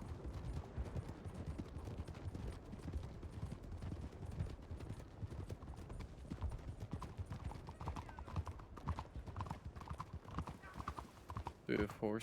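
Steady clip-clop of horse hooves at a brisk rhythm, with voices talking over them and a brief whinny near the end.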